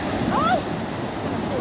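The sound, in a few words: ocean waves breaking on a cold beach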